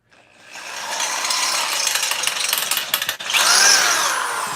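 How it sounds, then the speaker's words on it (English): A power drill whirs and grinds through a workpiece for a few seconds, loud and close, with a short pause before the high-pitched drilling starts again. "Let's get the drill."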